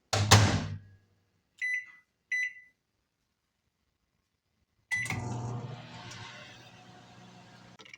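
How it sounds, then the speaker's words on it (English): A microwave oven heating chocolate, with a door clunk, two short electronic beeps, then the steady hum of the oven running after a pause. "Microwave chocolate for 30 seconds"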